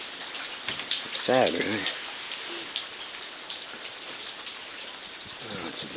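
Rain falls steadily at night near a town, a soft continuous hiss, while a person speaks briefly over it.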